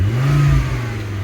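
A 2002 Volvo V70 2.4T engine revs up strongly, a loud steady drone held high before easing back toward idle, close by with no voices.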